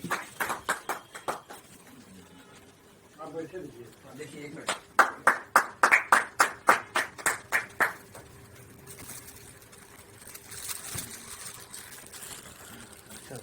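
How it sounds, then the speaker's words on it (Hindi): Applause welcoming the chairman at a home poetry gathering: a short burst of sparse hand claps, then a louder run of rhythmic claps, with someone speaking before and between them in a quiet indoor room. "जोरदार ताली स्वागत।"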